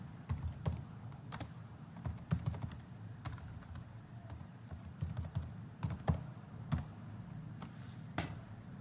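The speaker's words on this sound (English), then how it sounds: "Type the occasion." Fingers type on a computer keyboard, an uneven run of close, crisp key taps and occasional harder strokes over quiet room tone, with no talking.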